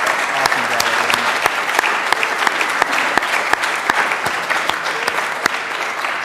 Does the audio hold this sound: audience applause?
yes